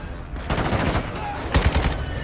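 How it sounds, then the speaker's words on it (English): An AK assault rifle fires in Warzone Mobile, two loud rapid automatic bursts close together with a brief pause between them. "Oof, that's some recoil on that gun. I think that's the AK."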